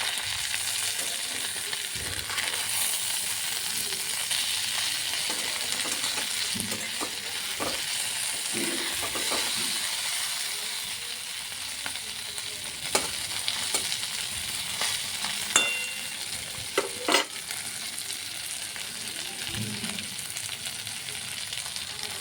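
A steady sizzle of pabda catfish frying in a hot pan, with occasional sharp crackles and pops and a few clinks, no voices.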